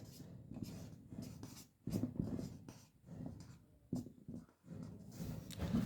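Pen or chalk strokes scratch out a math expression during a lesson: quiet, close, rhythmic scraping in short bursts separated by brief pauses.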